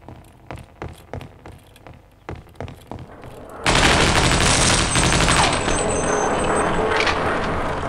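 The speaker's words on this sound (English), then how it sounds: "There are explosions everywhere, but that's all good." Explosions and gunfire in the shooter game Half-Life: Opposing Force, beginning as a run of sharp separate shots, then breaking into a loud, sustained roar of blasts and rapid fire that fills the rest of the stretch.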